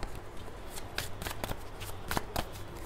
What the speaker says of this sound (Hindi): एक मिनट ये कार्ड्स को सही कर दो